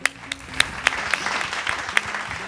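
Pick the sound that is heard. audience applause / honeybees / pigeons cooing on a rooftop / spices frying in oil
audience applause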